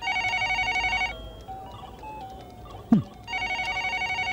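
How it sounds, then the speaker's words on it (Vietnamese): Electronic telephone ringtone pulsing in repeated bursts, stopping briefly then resuming, loud and close indoors in a 1992 Hong Kong TVB drama scene, with a short low thud midway through. "Điện thoại kia."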